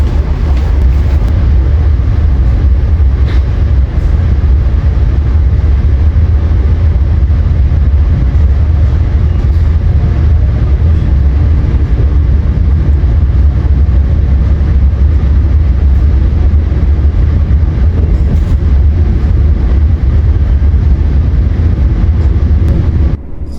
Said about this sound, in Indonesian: kereta api Taksaka tujuan Yogyakarta diberangkatkan